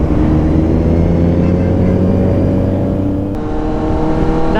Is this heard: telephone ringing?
no